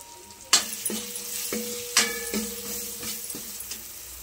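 Spices being fried and stirred for dal khichdi: a quiet sizzle broken by several sharp clanks and scrapes of a spoon against the pot, spaced about every half second to a second, no voices.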